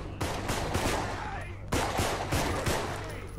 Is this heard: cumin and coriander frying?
no